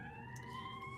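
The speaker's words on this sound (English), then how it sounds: "now you can hear a little bit of the siren outside of my house right now" An emergency vehicle's siren sounds outside a house, a steady sustained wail heard faintly through walls beneath a low background rumble, continuous across the whole moment.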